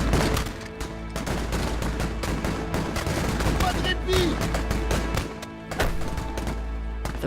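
Musket volleys in a historical battle re-enactment, with crackling gunfire and booming reports layered over a dense, continuous din, while a voice speaks at moments throughout.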